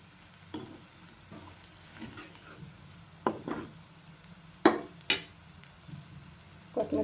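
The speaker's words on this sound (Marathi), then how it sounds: "आता आपण छान भाजून घेऊ तेलामध्ये मसाले" Spices roast in oil with a low, constant sizzle, punctuated by several sharp scrapes and clinks of stirring at irregular intervals, close and fairly quiet.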